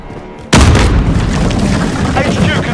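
A heavy enemy cruise missile detonation in a military shooter game hits after a brief quiet lead-in, then a loud rumbling roar and debris sustain through the rest, with a voice faintly under it.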